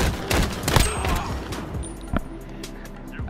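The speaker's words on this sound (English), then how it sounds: "I hit him with a shotgun." Shotgun fire in the video game Call of Duty Modern Warfare, several sharp booming blasts amid a busy mix of gunfire and game noise, with a player's voice faintly in the background.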